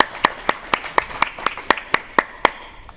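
Hands clap in a steady, evenly spaced rhythm, about ten crisp claps in quick succession, close and clear with no voices over them.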